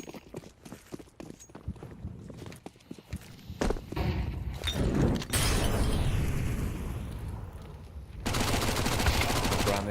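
Rapid gunfire in a competitive shooter video game match, bursts of shots and sustained automatic fire building through the clip, loudest in a dense stretch near the end, with footstep-like clatter between volleys.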